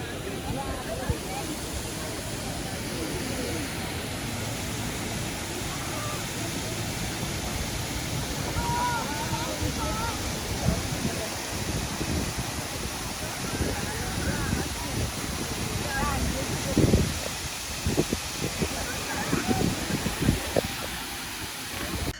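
Multnomah Falls, the largest waterfall in Oregon, roars as a steady broadband rush of falling water at a hiking trail, constant and full throughout with slight surges near the end.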